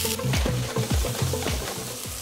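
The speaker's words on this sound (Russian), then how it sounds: "Лук надо обжарить." Chopped onion frying in hot oil in a pan, crackling sizzle under repeated scraping stirs that come in a regular rhythm, close and fairly loud.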